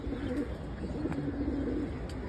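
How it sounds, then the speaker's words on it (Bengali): An old female pigeon of the white jira-necked (cumin-throat) breed coos in a home loft: low, soft, rolling coos repeating throughout, fairly close and unaccompanied by speech. "সবচেয়ে বয়স্ক এবং পুরান জিরা গলা মাদি কবুতর এটা"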